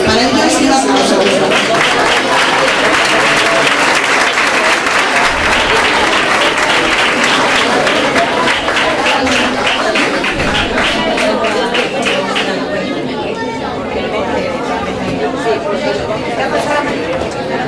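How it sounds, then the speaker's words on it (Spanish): Sustained, loud audience applause at a Día de Andalucía evening at a Casa Andaluza in Leganés as guests are invited on stage, dense clapping from a large crowd with chatter mixed in, slowly easing toward the end. "Para ellos, un aplauso."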